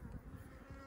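Honeybees buzz close and steadily around a beehive during hive maintenance, a dense continuous drone with no talk.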